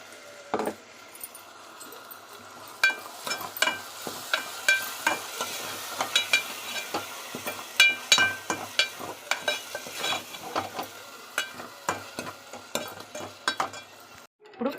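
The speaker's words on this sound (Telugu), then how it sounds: "ఈ పేస్ట్ ఇప్పుడు అందులో వేసుకుని బాగా కలుపుకోవాలండి." A ground paste of dried red chillies, cashews, tomatoes and green chilli is stirred into a frying paneer curry: a rapid run of loud spoon scrapes and knocks against the pan over a steady sizzle, close and busy.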